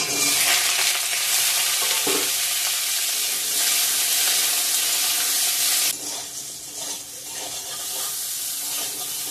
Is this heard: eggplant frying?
yes